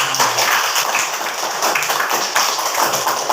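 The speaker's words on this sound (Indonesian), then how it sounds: "Terus tepuk tangan semuanya." A primary school class claps hands together in an Islamic religious education lesson, a loud continuous burst of many small hands clapping close by for the whole stretch.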